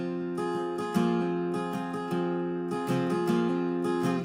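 Acoustic guitar strums the chorus of a song, a close, full-bodied rhythm of sharp strokes over sustained ringing chords, with no voice over the playing.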